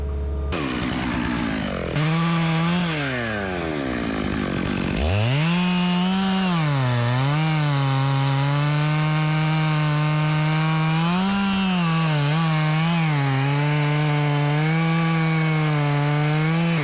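A chainsaw run by a logger bucking logs outdoors near a skid steer, with a steady, loud engine drone that dips and rises in pitch as the chain bites into the wood, continuous for the whole stretch with no talking.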